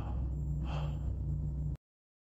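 A deep, heavy breath rises and falls against a low droning hum in a horror video game, then everything cuts abruptly to silence.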